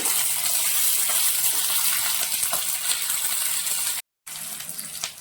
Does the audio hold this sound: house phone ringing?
no